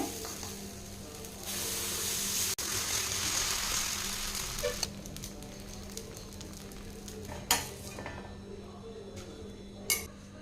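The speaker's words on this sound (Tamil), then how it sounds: "தோசை வந்து திருப்பி போட்டுங்க எடுத்துக்கலாங்க அடுத்து இனி ஒரு தோசை ஊற்றிக்கலாங்க" A dosa cooks on a hot pan with a steady sizzle, then settles to quieter frying, punctuated by a few sharp scrapes and clinks of a spatula flipping it.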